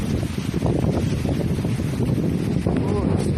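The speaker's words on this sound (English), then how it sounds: "Oh, it's windy." Steady wind buffets the microphone outdoors, a dense continuous rumble with rushing noise throughout, with a few faint voice-like traces mixed in.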